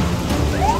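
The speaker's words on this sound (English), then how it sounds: "Acid rain started and I'm really scared." Acid rain falling in a children's cartoon, a dense, steady hiss of rainfall at close range, with a brief rising tone sweeping in near the end.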